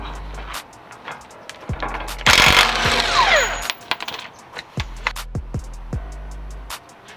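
Impact wrench driving a 36 mm axle socket to break loose an axle nut during a wheel bearing replacement, a loud buzzing burst of a second or so in the middle, with clanks and tool handling before and after.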